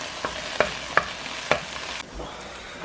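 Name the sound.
onions and peppers frying in a pan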